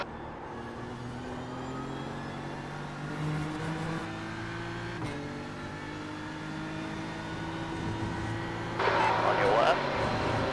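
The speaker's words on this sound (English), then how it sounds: "There's a faster class car approaching." A faster GT3-class car approaches in an IMSA race at Watkins Glen in a racing video game, its engine drone rising and shifting over a steady car hum while a voice talks throughout.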